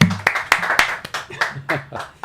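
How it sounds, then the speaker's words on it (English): Live crowd cheering and clapping, a handful of sharp hand claps landing irregularly with some whoops and voices mixed in, fairly close and lively. "crowd cheer"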